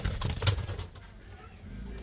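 Giribaz pigeons coo briefly at close range, a soft low burst near the start before fading into quieter background rustle.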